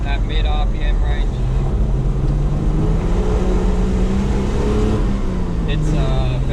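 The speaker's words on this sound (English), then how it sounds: "Again, only the primaries there, so only half throttle, and it's accelerating pretty well." Cammed Toyota TB42 engine pulling at half throttle on a trail, a steady loud drone with a rising tone throughout, plus rumble and wind buffeting.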